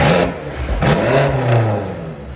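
A BMW X6 M Competition with downpipes and resonators revs hard in M mode, its engine rising in a loud, close roar with turbos spooling as it accelerates, a sustained surge with no talking over it.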